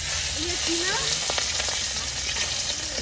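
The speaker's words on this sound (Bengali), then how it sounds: "এখন মাছগুলো বাইজা নেব" Young hilsa (jatka) fish frying in a pan, a steady broadband sizzle of hot oil continuing throughout with faint clinks and a brief murmur of voice over it.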